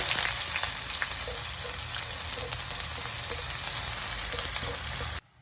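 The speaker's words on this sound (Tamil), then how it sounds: "அரிஞ்சு வச்சுருக்க ஆனியன் போட்டுக்கலாம்." Chopped onions sizzle loudly in hot oil with fennel seeds and cardamom, a dense, continuous frying crackle close up that cuts off abruptly at the end.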